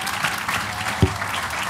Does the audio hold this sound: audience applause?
yes